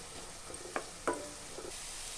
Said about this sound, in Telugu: ఈ ఆనియన్స్ పచ్చిపోయేదాకా బాగా దూరగా వేయించుకోవాలి.